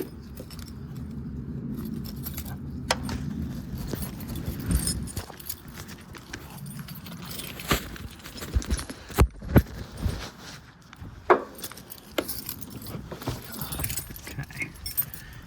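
Car keys for a Mitsubishi Eclipse jangle and clink repeatedly at close range, with scattered metallic taps and some handling noise, no talking.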